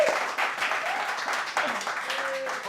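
Audience applause for Frankie at a live show, a steady wash of clapping with scattered whistles and cheers running the whole time.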